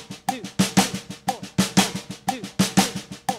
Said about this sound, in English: This is also a super popular rudiment known as the six-stroke roll.